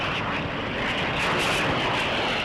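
A Dassault Mirage jet fighter flying a display pass, a loud, steady, broad roar that holds at high level throughout with no break and no voices.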